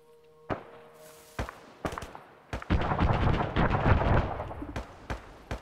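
Video game firefight with rapid bursts of gunfire, sharp shots scattered early and then dense, sustained volleys in the middle before tapering to a few isolated reports near the end; no talking.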